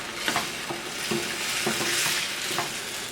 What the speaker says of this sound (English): We're going to stir this up to where it's all incorporated with those peppers and vegetables.